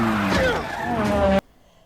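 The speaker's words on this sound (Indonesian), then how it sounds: "aksi kejar-kejaran pakai mobil pun berlanjut" Cars roar and tires squeal during a movie car chase, a loud engine drone with skidding screeches that cuts off abruptly to near silence.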